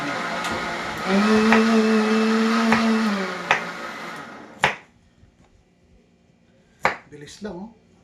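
A kitchen blender whirs steadily for about two seconds as it mixes carrot and pineapple juice, its motor tone rising and settling, followed by a few sharp knocks and clatters near the end.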